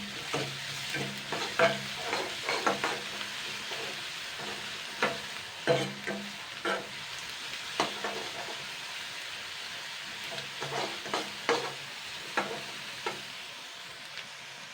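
Soybean and chickpea dal being stirred as it fries in a pan, a steady sizzle broken by repeated scraping strokes of a spoon at an unhurried rhythm, close and with no talking.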